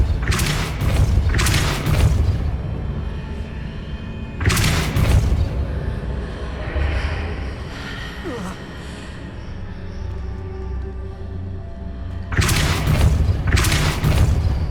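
The Depulso spell is cast in Hogwarts Legacy and lands as heavy booming thumps in three separate bursts. Each loud, forceful blast stands apart, with quieter game ambience and faint voices between them.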